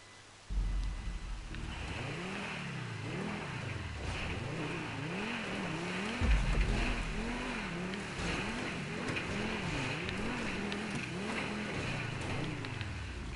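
A car engine in a PS4 driving game revs up and down repeatedly as the throttle is blipped, producing a steady rising-and-falling drone that carries on throughout the clip with no talking.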